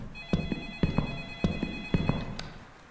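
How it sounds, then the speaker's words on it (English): A telephone rings in the Light Switch video game, a bright electronic trill repeating in quick bursts roughly every half second, moderately loud and close before fading out, with no talking over it. "The phone is still going off, and I still do not care."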